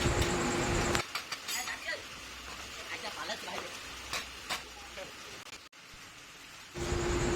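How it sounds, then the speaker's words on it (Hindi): Heavy rain falls outside during an electric rickshaw gearbox and motor repair, a steady hiss that is loudest at the start and end, with someone talking over it through the middle. "और फ्रेंड बाहर में बहुत बारिश हो रहा है,"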